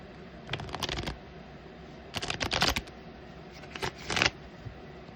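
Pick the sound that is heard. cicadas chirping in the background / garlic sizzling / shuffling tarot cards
shuffling tarot cards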